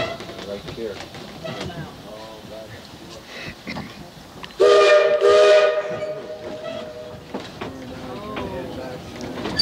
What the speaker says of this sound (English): these whistles can be heard over 10 miles down that valley